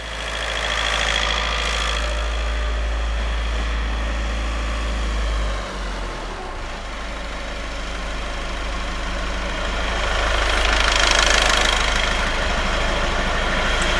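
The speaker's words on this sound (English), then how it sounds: "we are going to allow the engine to come back down to idle." A diesel engine idles with a steady low rumble and knock during DPF cleaning, easing slightly in pitch before settling, then swelling a little toward the end.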